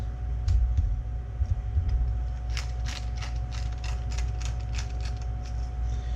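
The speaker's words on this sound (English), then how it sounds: "A little freshly ground black pepper and a little salt on both sides." Black pepper ground from a mill over raw beef while seasoning for gyudon: a run of quick, evenly spaced crunching, ratcheting clicks up close, over a steady low kitchen hum.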